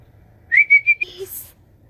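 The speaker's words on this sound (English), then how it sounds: "if they didn't hear me whistle, they're not going to hear that" A short whistled call to chickens, a few rising notes then a steady tone and a brief chirp, close by against quiet yard background.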